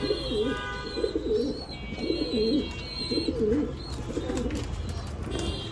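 Pigeons in a loft, including Red Lahore birds, cooing in repeated rolling phrases roughly every second, close and clear over a steady background hum, with no talking.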